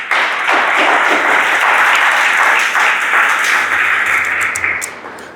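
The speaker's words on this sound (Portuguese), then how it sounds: "Palmas que louvam ao Senhor da glória." A church congregation applauds in praise during a worship service, steady dense clapping sustained throughout, loud and close, with no talk over it.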